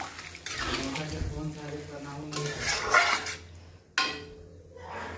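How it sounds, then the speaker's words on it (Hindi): Water is poured into a pan of village-style potato and yam curry, a rushing splash with sizzling in a home kitchen, broken by a couple of clanks near the end. "चाहिए इसे अब पकने के लिए हम पानी डाल देते हैं इसमें।"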